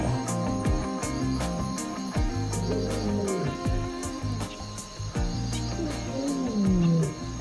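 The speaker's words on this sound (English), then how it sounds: "The most chilling sound in all Africa, a lion's roar." Deep, rumbling African lion roars at dawn, rising and falling in a repeated series of grunting calls, loud and close, with sharp clicks and a bright steady insect buzz behind.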